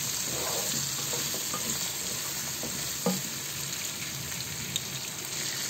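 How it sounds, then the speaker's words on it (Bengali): Chopped garlic frying in oil for a potato and pointed gourd fry: a dense, steady sizzle close by, with occasional faint stirring taps and no speech. "দিয়ে দেব রসুন কুচি"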